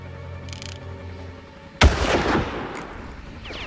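A single sharp, loud gunshot bursts out midway through a Far Cry video game scene, ringing briefly after a quieter stretch of game ambience, with no talking.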